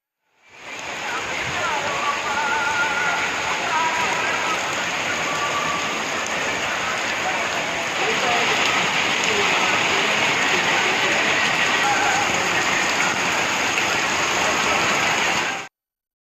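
Heavy night-time rain pouring down in Viralimalai, Pudukkottai district, a dense, loud, unbroken hiss that runs steadily from start to finish, with no distinct thunder claps standing out.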